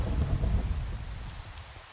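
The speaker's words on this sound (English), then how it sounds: "Whoa, lightning strike." A lightning strike in the video game Minecraft brings a deep, loud rumble of thunder with a rain-like hiss, heavy at first and then slowly fading.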